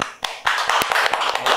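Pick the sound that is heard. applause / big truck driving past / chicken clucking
applause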